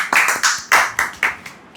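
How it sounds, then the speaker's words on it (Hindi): An audience at a discussion gathering claps in about seven sharp, evenly spaced beats roughly a quarter second apart. The claps are close and crisp, with no talk. "सब लोग तालियां बजाएंगे"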